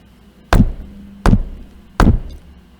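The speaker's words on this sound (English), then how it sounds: "there was a knock at her door" Three sharp, loud knocks strike a door at an even pace, each about three-quarters of a second apart, with brief silence between them.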